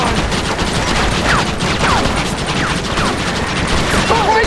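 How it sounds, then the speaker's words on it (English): Rapid gunfire in Red Dead Redemption during the assault on Fort Mercer: loud, dense volleys of shots crackling without pause, with occasional whistling ricochets layered through the steady barrage. "I'm also having great fun just firing at will"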